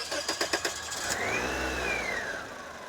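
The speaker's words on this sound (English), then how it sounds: "Can you go ahead and start the engine?" A Toyota Corolla with a P0171 lean fault cranks with a quick series of rhythmic chugs in a long crank, then catches and starts, revving up briefly before settling into a steady idle.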